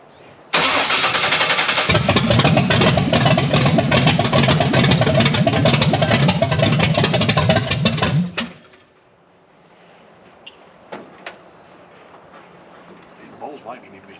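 A Blueprint 540 big-block engine in a C10 pickup, being set up for timing and carburetor, cranks and fires into a loud, steady rumbling run for several seconds, then cuts off abruptly, leaving faint shop noise and small knocks.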